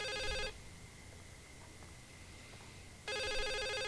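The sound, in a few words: brick phone ringing in video game The Suicide of Rachel Foster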